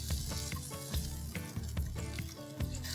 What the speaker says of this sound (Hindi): चिकन को आपने अच्छा सा सौटे करना है